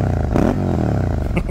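A Suzuki SV650 motorcycle engine idles and briefly revs close by, a thick throbbing V-twin burble that rises in pitch for a moment and then settles.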